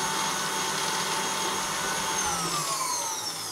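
Electric mixer beating cookie dough, its motor whirring loudly and steadily close by and rising slightly in pitch as it speeds up, with no voices over it.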